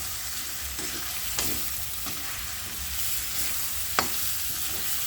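Spicy sweet and sour chicken being stirred in a pan over steady frying sizzle, with occasional soft scrapes and a sharper clink of the utensil, close and continuous.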